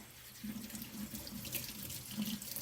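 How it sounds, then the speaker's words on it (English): Tap water runs steadily through a colander, rinsing canned chickpeas in a kitchen sink, giving a soft, continuous splashing hiss at close range with no talking. "I'm just going to pour the chickpeas into the colander, just like that. And then I'm going to give them a nice rinse"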